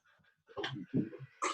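A dog whimpers and whines in short, close bursts, with a quiet stretch early on and louder yelps toward the end.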